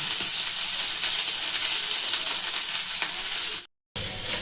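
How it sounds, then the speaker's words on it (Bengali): Coarsely crushed garlic with ginger fries in oil over a low flame, giving a continuous close sizzle with faint stirring and a brief cut-out near the end. "দেখুন খুব সুন্দরভাবে রসুন ভাজা হয়ে গেছে"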